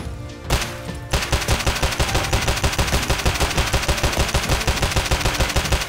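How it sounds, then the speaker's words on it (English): Automatic weapon blind-fired over cover in the video game Escape from Tarkov, a loud, fast, steady burst of gunfire with a brief pause before the sustained rattle continues to the end. "Blind fire over cover."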